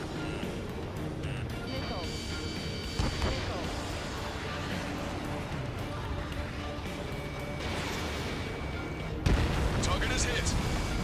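Missile launches and explosions in the Ace Combat 7 jet combat video game. Rumbling booms and blasts sit over a continuous roar of engines, with a sharper impact near the end, and radio chatter from voices plays throughout.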